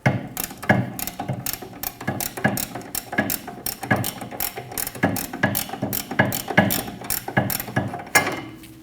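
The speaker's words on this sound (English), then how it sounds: "Using a 21mm wrench, we're going to crack the bolt free on the bottom of our shock" A 21mm ratcheting wrench cracking free the lower shock absorber bolt on a 2012-2022 Volkswagen Passat rear suspension, giving a steady run of close, crisp ratchet clicks in regular bursts, with no voices.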